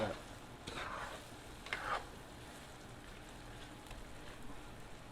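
Barbecue smoked sausage fries in a pan while being stirred, two bursts of scraping and louder sizzling near the start, then a steady lighter crackle that carries on close by.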